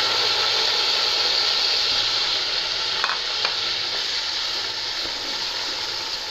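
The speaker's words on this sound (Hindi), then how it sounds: "प्याज का कलर आ चुका है, अब हम इसमें टमाटर डाल देंगे।" Tomatoes added to onions frying in a pan for chicken dal: a steady loud broadband sizzle throughout, with a couple of faint scraping clicks near the middle and no talking.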